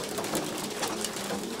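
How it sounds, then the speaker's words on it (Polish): Homing pigeons coo while being fed by hand at a pigeon loft, a soft, continuous murmuring of several birds close by against steady background noise, with no talking. "No tu widzimy, jak gołębie są karmione."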